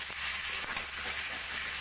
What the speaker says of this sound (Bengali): টমেটো, আলু, মটরশুঁটি সব কিছু দিয়ে মশলাটা ভালো করে কষিয়ে নিয়েছি।